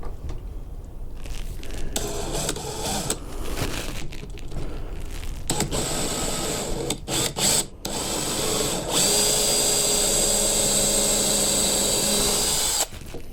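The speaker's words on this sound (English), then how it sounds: "I'm going to put those countersink holes in here just so that they don't split it when it goes in the lag bolts" A power drill bores countersink holes into wooden boards for lag bolts. It runs in loud bursts with short pauses between them, then gives one long steady whine near the end.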